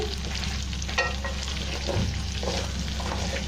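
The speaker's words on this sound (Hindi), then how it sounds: "आप इसमें शिमला मिर्च ऐड करेंगे इसी ऑयल में जिसमें मैंने चिकन फ्राई किया था" Bell pepper pieces fry and sizzle in oil previously used for frying chicken, a steady close crackling hiss with stirring scrapes throughout.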